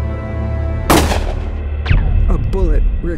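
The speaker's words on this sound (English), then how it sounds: "A bullet ricocheted off the floor and hit Lenny right between the ribs." In a drama scene, a single loud close gunshot cracks out and is followed by a whining bullet ricochet, with tense voices and shouting continuing around it.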